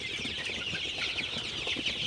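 Sonali super hybrid chickens in a poultry shed at night make a dense, continuous chorus of clucks and chirps from many birds close by, with no one talking.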